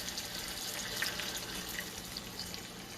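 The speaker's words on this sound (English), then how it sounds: "So you slowly just put in the water in this." About a quarter cup of water is poured slowly into a pan for steaming gram flour dhokla. It makes a soft, steady, faint trickle throughout, with no voices.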